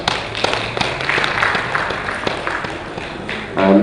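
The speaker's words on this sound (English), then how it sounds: "let's give her a round of applause" Audience at a National Diaspora Day session giving a round of applause, scattered, uneven claps and thumps at moderate level, with a louder burst near the end.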